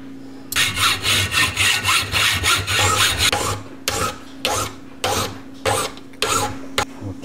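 A hand saw cuts off excess material on a homemade self-leveling camera mount, giving loud, close, rapid back-and-forth strokes that run steadily, then break into shorter separated pulls toward the end.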